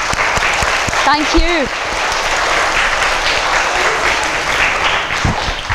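Applause from a school audience of children during an author's visit to a primary school, a dense patter of clapping that carries on under a brief spoken thanks and a few vocal sounds.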